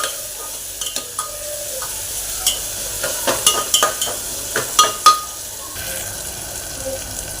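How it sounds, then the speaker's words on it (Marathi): Onion and tomato frying in oil for a spiced gravy, a steady soft sizzle under repeated spoon scrapes and taps against the pan, growing busier midway before settling back to gentle frying. "कांदा टोमॅटो छान असं बारीक ग्रेव्ही होईपर्यंत आपण तेलामध्ये भाजून घेणार"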